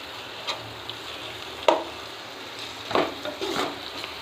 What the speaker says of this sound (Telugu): ఇక అన్నం వేసేసుకొని కలిపేసుకోండి